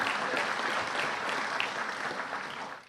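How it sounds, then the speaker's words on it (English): Audience applause at a Louisville Metro Police Department event, a dense, steady wash of many hands clapping that holds level and begins to fade at the end, no speech over it. "Give Devarsh a round of applause."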